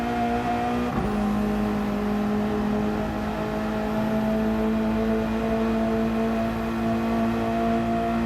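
A Subaru BRZ race car in Gran Turismo 7, racing a Manufacturers Cup round at Tokyo, holds a steady, droning engine note with a constant whine that barely changes pitch, heard close and continuous throughout.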